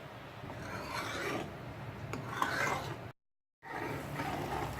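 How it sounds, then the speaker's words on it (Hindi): Soft, continuous scraping as a spoon stirs cream melting in a pan over very low heat to render ghee, with one brief silent gap partway through. "इसे बीच बीच में चलाते भी रहना है ताकि नीचे से हमारा घी लग ना जाए।"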